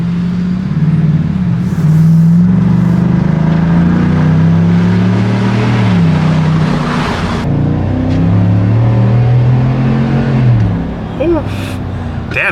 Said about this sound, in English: Damn, this thing picks up like crazy.